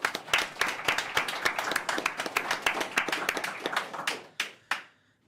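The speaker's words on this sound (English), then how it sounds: "So huge applause for Nova Custom and NitroKey." Conference audience clapping at a Qubes OS summit, a brisk burst of many hands that thins into a few scattered final claps and fades to quiet.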